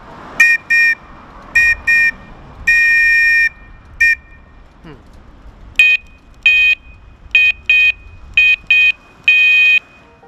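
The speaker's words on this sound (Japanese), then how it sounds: "じゃあまずは本物の単管笛。" A loud, shrill real single-tube whistle sounds in a series of short and long blasts, separated by brief pauses.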